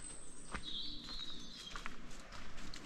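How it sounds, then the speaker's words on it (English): Birds sing faintly in quiet woodland, a few scattered chirps and short high calls over a soft, still background, distant and gentle. "All you can hear is the birds singing."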